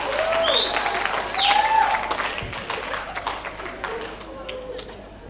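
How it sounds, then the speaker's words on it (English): At a 2026 preparatory school graduation ceremony, the audience applauds the graduating class. The clapping is a dense, steady crowd wash, with whistles and cheers rising above it. The applause thins gradually toward the end. "give a round of applause for the graduating class of 2026"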